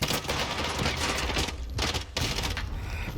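Gunfire in the Warzone battle royale, solos mode: a dense, sustained fusillade of rapid shots over a steady noisy background, briefly dropping out twice before resuming.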